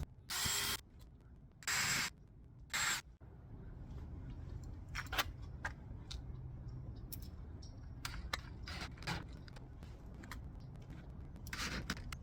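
A power driver runs screws into a fridge vent cover in three short, sharp bursts, followed by quieter handling clicks, scrapes and taps close by.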